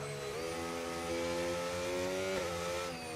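A McLaren race car in a racing video game, heard from onboard during a Belgian Grand Prix sprint at Spa: a steady, loud engine note climbing through the revs with gear shifts, without talk.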